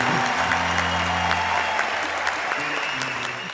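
A crowd applauds a band in the street, a steady wash of clapping that tapers slightly toward the end, with a sustained low tone from a brass instrument and a voice speaking at times underneath.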